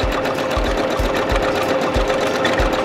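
A sewing machine free-motion stitches a cotton skirt, its needle running in a steady fast mechanical whir with rhythmic low thumps, close and loud throughout.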